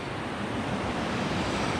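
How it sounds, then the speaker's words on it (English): The Colorado River rushing along the bottom of the Grand Canyon, a steady broadband wash of moving water mixed with some wind noise, continuous and fairly close, with no talking. "just enjoying the sights and the sounds of the Colorado River"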